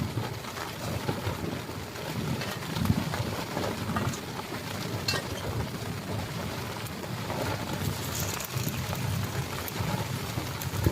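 Rain falls on a grassland campsite and into a cooking pot during a windy storm on the Tibetan plateau, making a steady, dense patter mixed with gusting wind noise, with no talking.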